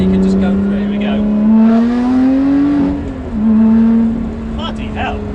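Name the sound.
Lotus Exige 430 Cup accelerating hard on road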